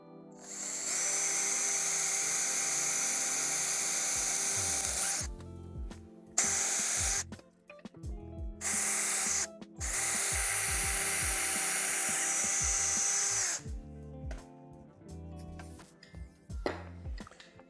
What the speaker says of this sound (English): So that's how far we want to drill it into.